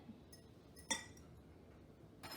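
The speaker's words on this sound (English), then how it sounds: "So I'm going to put my glass back in the cabinet." A glass clinks once against a shelf as it is set back into a kitchen cabinet, a short bright knock in an otherwise quiet room, with a softer tap just before it and another near the end.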